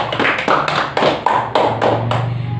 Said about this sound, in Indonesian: Beri tepuk tangan untuk Putri dan Anggi.